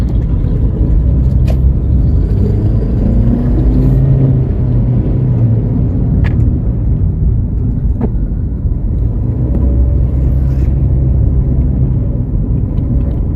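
Toyota Vios Gen 2 car on the road, driving and overtaking on a trip from Cipanas to Jakarta: a steady, loud low engine and road rumble that holds throughout, with a few brief sharp ticks and no voices.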